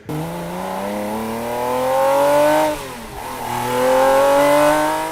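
A Ferrari sports car engine revs loudly in a garage, its pitch climbing, dipping briefly, then climbing again in a sustained, throaty roar.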